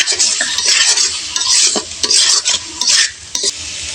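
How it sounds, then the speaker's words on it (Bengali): Spice paste sautéing in mustard oil, stirred with a utensil in a pan: loud, close sizzling and frying with repeated scraping strokes, continuous and busy throughout. "এখন দিয়ে দেব সরিষার তেল দিয়ে আর একটু মশলাটা কষিয়ে নেব"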